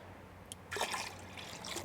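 Compost tea is poured into a container of water, a soft, faint trickle and splash heard up close in a short burst, with a brief drip just before it.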